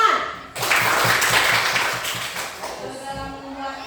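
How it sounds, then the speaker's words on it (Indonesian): Students in an Indonesian classroom give a short, lively round of applause for a classmate. The clapping is dense and fairly close, and it fades as a teacher's voice comes back in. "silakan Nak, tepuk tangan"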